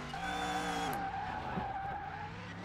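A drift car in Car Mechanic Simulator 2021, a racing-tuned Corvette C3, squeals its tires in one long continuous skid, close and loud, with the engine droning underneath and its pitch dropping partway through.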